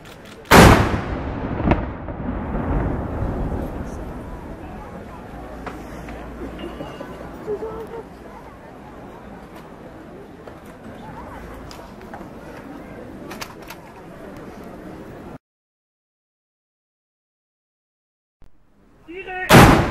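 Salute shots from a cannon or guns boom out during Geneva's Restauration celebration, a loud blast near the start and another at the end, with crowd murmur and nearby voices between them.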